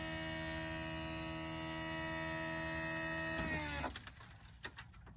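A hydraulic bed on a U10 Pro utility vehicle lifts with a steady, loud electric pump hum, which cuts off abruptly and is followed by a few clunks and settling knocks as the bed locks into place.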